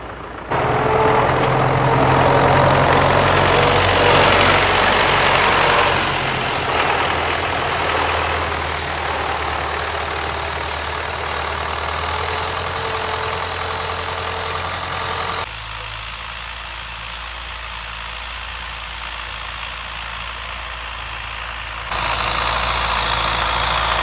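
A tractor engine drones steadily and loudly while ploughing a garden with a broken plough and failing hydraulics, its pitch and load shifting a few times as it works, with no talk.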